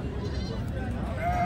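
Goats bleat briefly at a farm where a herd of eight goats and their kids is kept, a short faint call heard beneath nearby conversation.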